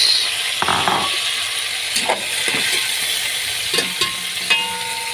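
Ginisang monggo, a Filipino mung bean dish, sautéing in a pan just after tomatoes go in: a steady hiss of frying with several sharp clinks and scrapes of stirring scattered through, no voices.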